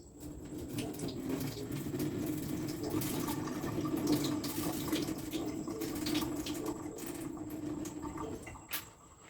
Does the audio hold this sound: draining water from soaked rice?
yes